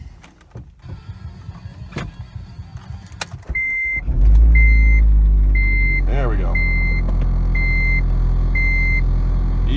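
An old manual-transmission Honda Civic starts after a few clicks, then settles into a loud, rumbling idle with a regular warning chime beeping over it, while a person speaks briefly up close.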